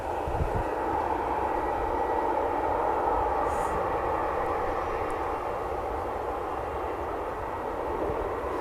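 EasyJet jet engines spooling up at Manchester Airport, a steady, loud broadband roar holding constant throughout with a low rumble underneath.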